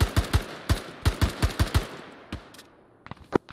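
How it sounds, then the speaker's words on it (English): Rapid bursts of gunfire in ArmA 3 crack in quick succession, some shots clustered like automatic fire, then a few scattered shots trail off, loud and close. "Careful, I think I hear some gunshots right over this bridge."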